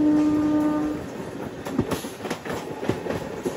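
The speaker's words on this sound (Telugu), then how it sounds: "కర్ణాటకలోకి ఎంటర్ అయిన తర్వాత వెల్కమింగ్ గా గూడ్స్ ట్రైన్ ఎదురొచ్చిందండి" A goods train passes a MEMU passenger train after it enters Karnataka. A horn sounds at the start, then a loud, rapid clatter of wagons rushes by close alongside.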